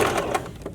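Sewing machine stitching bra elastic, a short burst of rapid mechanical clatter running close and fairly loud, with no talk over it.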